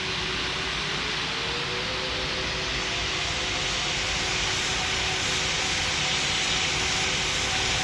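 An Emirates heavy jet taking off in the video game Pilot Training Flight Simulator, a continuous jet engine roar that slowly swells in loudness with a thin steady whine, no talking.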